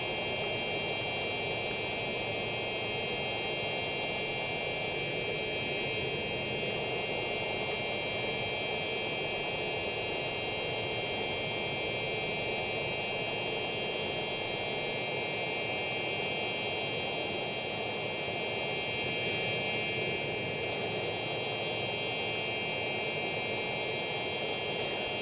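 Steady broadband roar of a Citation Jet 525's engines in a flight simulator game during a go-around, continuous and fairly loud with a constant high whine running throughout.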